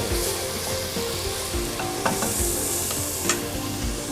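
Garlic and ginger paste sizzles and fries in a pan over low heat while being stirred, a steady close crackle with faint scraping strokes throughout.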